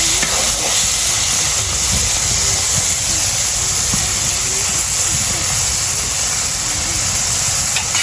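Chaina fish heads fry in hot oil with a steady, loud, unbroken sizzle and hiss close up, and faint stirring clinks run beneath it.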